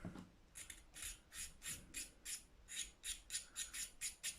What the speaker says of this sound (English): Lightly scrape to clean up any glue, because there will be like loads of glue.